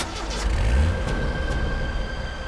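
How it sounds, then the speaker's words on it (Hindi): A car pulls away and accelerates, its low engine rumble swelling near the start and then holding steady as it drives off, close and fairly loud with no talking. "गाड़ी चला, निकल यहां से।"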